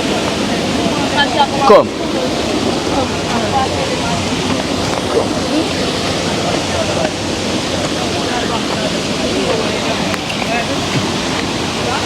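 A river rushes with a steady broadband wash of flowing water, close and continuous, while people talk briefly over it.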